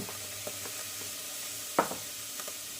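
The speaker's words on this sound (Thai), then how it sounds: "กับแฮมลงเนาะมาพัดมันเข้ากันไปเลย มาพัดให้เข้ากันให้หอมๆ" Bacon and ham stir-fried with onion and mushrooms in a pan for carbonara give a steady low sizzle, with soft clacks and scrapes of stirring.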